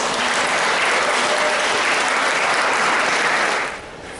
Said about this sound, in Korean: 큰 환영의 박수 보내주시기 바랍니다